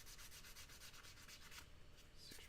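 A super fine 600 grit sanding sponge rubs back and forth over a surface in steady, quiet strokes, close and continuous, with no voices.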